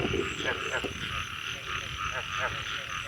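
A chorus of frogs croaks steadily in the night after a heavy first rain of the season, with repeated rough calls nearby over a constant insect drone and no talk.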